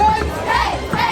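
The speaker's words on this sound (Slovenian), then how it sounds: "tole pa so že navijači 6. B" A school class of children cheering for their team in a brief burst of crowd shouting and chanting, lively and fairly close.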